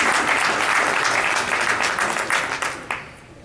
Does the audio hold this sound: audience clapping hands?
yes